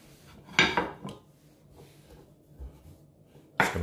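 Carrots being roughly chopped with a knife on a kitchen board for a ginger, pineapple and mint juice, giving a few loud, separate thuds and clatters with quiet pauses between them, close and clear with no talking.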